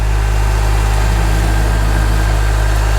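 A Farmall Super M tractor skidding heavy oak logs uphill, its engine laboring in a loud, continuous low drone heard close up, with no pauses.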